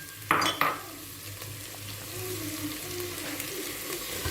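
Tomato paste stirred into a pot of frying lentil soup: two sharp clinks of a utensil against the pot, then a soft, steady sizzle and low bubbling close by.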